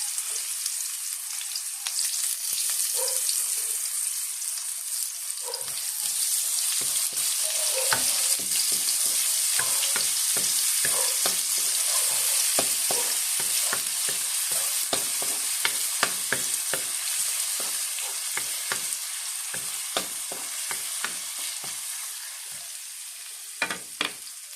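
Two onions frying in hot oil in a pan while ground pork cooking for giniling is prepared, a steady close sizzle broken by frequent clacks of stirring utensils, with no talking.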